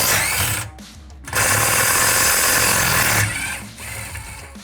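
Milwaukee power tool, likely an impact wrench, breaking loose 11mm bolts on a car's rear suspension. It sounds as two loud bursts of rattling, whirring tool noise with a short pause between them, close by.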